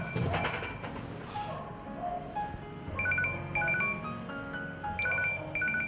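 A telephone rings with repeated electronic tones in short bursts, fairly loud and close, alongside a dramatized crime-show scene with music beneath.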